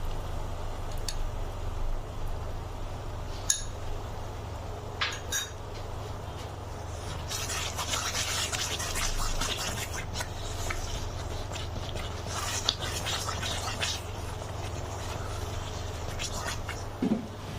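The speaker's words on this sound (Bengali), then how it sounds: "আমি আচারের মশলাটা খুব ভালো করে মিক্স করে নেব" Spoon stirring pickle spice into tomato pickle in a pan, with soft scraping and rubbing plus a few light metallic clinks, steady and close throughout.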